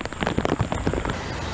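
Steady rain falls on an outdoor barramundi fishing trip in Australia, a dense hiss with scattered crackling patters that stays fairly loud and even throughout, with no voices.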